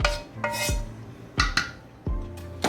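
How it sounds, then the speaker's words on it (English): Ingredients for lazy golumpki go into a cooking pot with several sharp metallic clanks and scrapes of a utensil against the pot, spaced irregularly and close by, with no talking. "So we're going to go ahead and put that in our pot."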